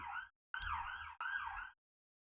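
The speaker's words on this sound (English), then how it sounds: "Not sure if you guys can hear that siren going by" An emergency vehicle siren wails outside in three rising and falling bursts separated by short gaps, fairly loud and alone with no talk.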